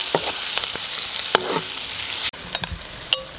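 Onion sautéing in a hot pan with garlic while cooking fried pork belly in salted egg sauce, a steady close sizzle with a few stirring scrapes and clinks, and no talking.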